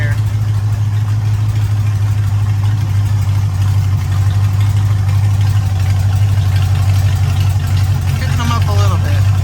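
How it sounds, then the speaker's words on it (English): A demolition derby car's engine idles loudly and steadily after a warm start, a continuous deep rumbling drone with slight roughness, with a voice talking faintly over it. "I'm gonna go out and adjust the idle a little bit here."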